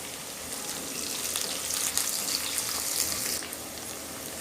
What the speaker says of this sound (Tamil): இப்போ நம்ம கறிவேப்பிலை சேர்த்துக்கிடலாம்.